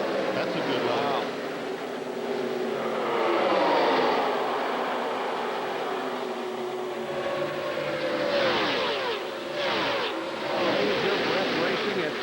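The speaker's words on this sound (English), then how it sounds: "Racing at Talladega Superspeedway." NASCAR stock cars race at Talladega Superspeedway, a pack of engines droning and sweeping past with rising and falling passes, under a broadcast commentator's voice.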